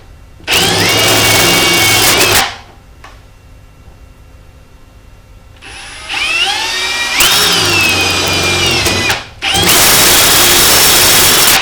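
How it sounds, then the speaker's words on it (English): A drill whines in three loud bursts, cutting through PVC pipe for a hydroponic garden tower, with quiet pauses between runs. "that's when you've got to be most careful when drilling through the PVC"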